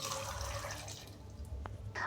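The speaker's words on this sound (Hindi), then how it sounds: "साथ ही इसे ब्लेंड करने के लिए इसमें शामिल करेंगे हाफ़ कप पानी" Half a cup of water pours into a blender jar holding roughly chopped onion, a faint close trickling splash running nearly the whole moment before a small drip at the end.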